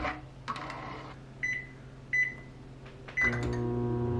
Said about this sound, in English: so we're gonna throw that in the microwave now.